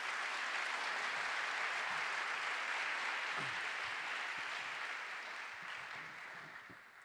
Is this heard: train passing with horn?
no